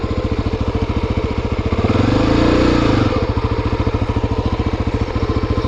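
A Honda NX motorcycle engine runs close and loud as the bike turns around in place, a steady rapid thumping idle that swells briefly with a little throttle before settling back, no talk.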